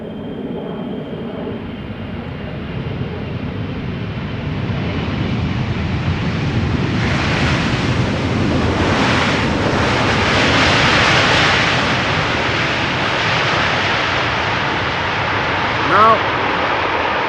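An EasyJet Airbus A320neo airliner arriving at Schiphol from Gatwick, a broad jet roar swelling as it passes nearby and then holding steady, with people talking over it.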